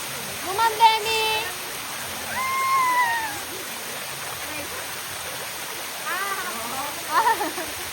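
Heavy water pours steadily at a water massage feature in a pool at Momarco Tanay Resort, a constant rushing roar. Voices call and chatter over it from time to time.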